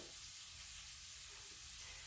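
Onions sauté in a pan over medium heat with a steady, faint frying hiss, uninterrupted and close.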